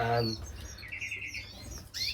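Fife canaries chirping in an indoor bird room, a few short bright tweets and a quick trilled run, moderately close and fairly quiet, with soft room noise between calls.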